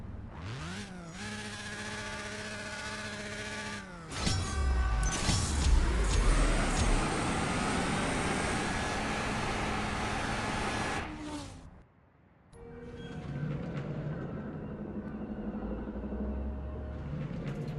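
A Toyota Supra races in the CSR Racing 2 drag game, its engine revving hard through rising gear shifts with a loud nitrous-boosted surge, then a brief drop before another revving run.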